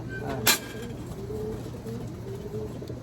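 A racing pigeon coos close by, a soft, low, throaty call repeated in short rolling bursts, with a brief sharp noise near the start.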